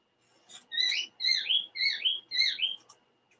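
Bird calling outside, four bright, clear whistled phrases in a regular rhythm, each a quick rising-and-falling chirp, fairly close and distinct against quiet surroundings.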